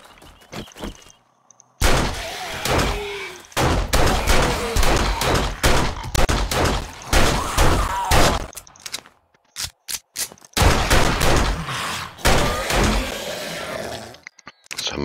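In the survival game 7 Days to Die, loud, close gunfire comes in repeated rapid bursts with brief silent gaps between volleys.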